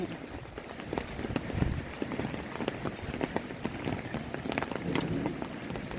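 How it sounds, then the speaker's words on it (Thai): Rain patters steadily on surfaces outdoors, fairly faint and even, easing off toward a stop, with a voice speaking softly over it. "ฝนฝนเกือบจะหยุดแล้วนะฝนเกือบจะหยุดแล้ว"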